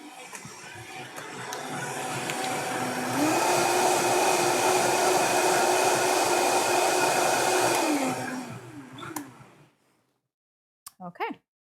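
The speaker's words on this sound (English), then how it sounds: "So here's a stick blender. This is an immersion blender." An immersion stick blender whirs through chicken tikka masala, a loud steady motor whine that rises in pitch midway, holds for several seconds, then winds down and stops, followed by brief faint clatter.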